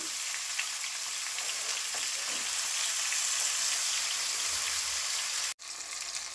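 Poa fish fries with mustard in a pan, giving a steady, close crackling sizzle throughout that cuts off abruptly just before the end.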